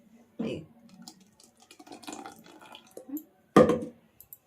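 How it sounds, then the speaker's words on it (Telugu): Water splashes into a blender jar in two short, louder pours with quiet trickling and faint clinks between them. "ఇప్పుడు కొద్దిగా వాటర్ వేసుకుందాం ఇలా"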